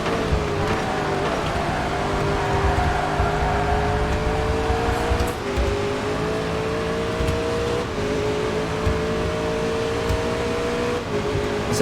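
Race car engine in TOCA Race Driver 3, a steady loud drone with rising and falling pitch as the car shifts and accelerates through a quick lap, continuous for the whole stretch.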